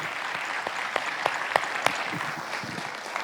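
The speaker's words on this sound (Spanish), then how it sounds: "Aplauda al Señor." A church congregation applauds the Lord during a service, steady dense clapping with a few sharper claps standing out, sustained throughout at moderate loudness.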